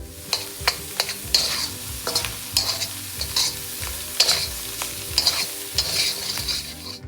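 Carrots stir-fried in a pan for chicken fried rice: a spatula strikes and scrapes the pan in a regular rhythm over a continuous light sizzle.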